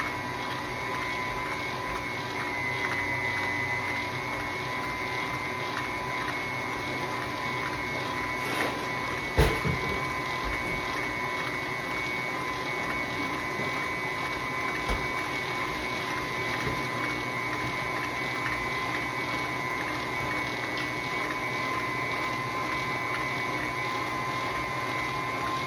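A mixer or blender steadily whirs through cream cheese, sugar, lemon juice, vanilla and eggs for a graham cracker cheesecake, a constant droning hum lasting the whole stretch with one brief knock midway.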